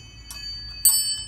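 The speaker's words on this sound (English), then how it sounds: "It's a water rain chime." A hanging metal water rain chime in a Central Florida garden gives two brief, bright tinkling strikes with shimmering ringing tones that linger softly between them, close by with no talk.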